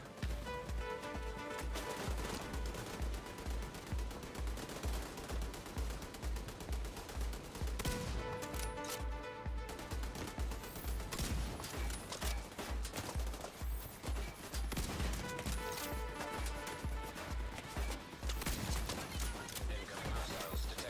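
Heavy machine gun fire from an enemy heavy gunner in the video game The Division 2, a loud continuous rattle of rapid shots layered with other in-game gunfire and effects throughout.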